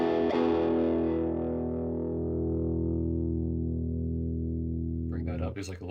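Electric guitar run through an overdrive pedal with its low-end control turned down, a single distorted chord ringing out and slowly decaying, then brief scratchy string noise at the end; no talking.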